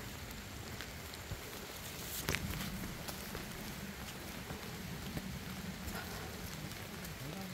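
Steady rain falling on a traditional bark-roofed house in Korea, a soft, even patter with occasional louder drips, continuous and moderately quiet throughout.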